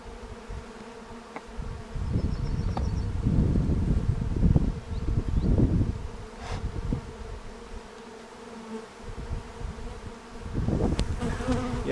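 Honey bees buzz at a hive in Finland while a bumblebee tries to get in, the buzzing close and swelling in loud surges between quieter stretches, with a few sharp wingbeat passes.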